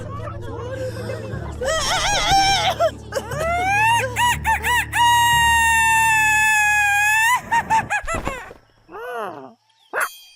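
A cartoon rooster in Upin & Ipin gives several long, loud, drawn-out crows in a voiced, sung style, broken by short clucks and a final brief call.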